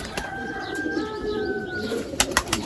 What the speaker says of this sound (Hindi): माशाल्लाह बड़ा अच्छा कबूतर है चपड़ा।